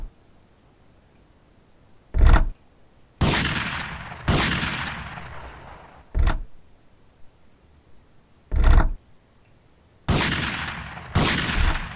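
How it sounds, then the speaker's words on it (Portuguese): Shotgun blasts at a target in the video game GTA Vice City Stories: six loud, separate booms spaced irregularly, some single sharp cracks and others longer rolling reports, with quiet gaps between them. "Escopeta, round número 3."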